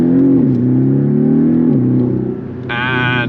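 Porsche 718 Cayman four-cylinder engine revving up and down, a loud close-up rumbling drone that rises and dips, with a brief higher-pitched tonal layer joining near the end.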